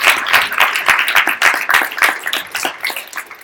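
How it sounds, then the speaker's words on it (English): A seated audience at a live business event claps for a group asked to stand, sharp individual claps rising and falling in uneven bursts, close and loud with no talk. "give them a round of applause for making the commitment to come down"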